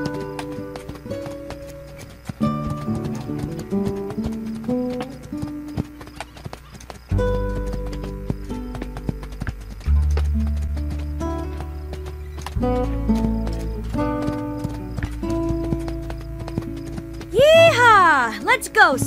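Video-game horse Spirit gallops with rhythmic hoof clip-clops over a musical score, a whinny rising near the end, while a voice talks over the action.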